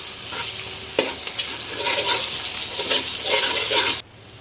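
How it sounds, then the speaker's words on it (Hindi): Ginger-garlic paste sizzles and crackles steadily in a hot pan, with scraping stirs layered over the frying, close up and without any talking. "इसे 1 मिनट के लिए फ्राई करेंगे"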